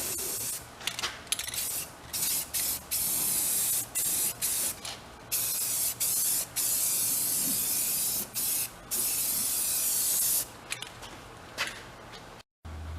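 An aerosol can sprays paint in short and longer bursts over the edges of a restored vintage Snap-on airport toolbox, each hiss close and crisp, separated by brief pauses.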